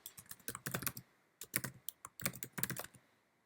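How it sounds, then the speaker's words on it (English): Rapid keystrokes on a computer keyboard come in two close, uneven bursts with a brief pause between, crisp and near, with no voices. "Now I'm going to type in skateboarding websites."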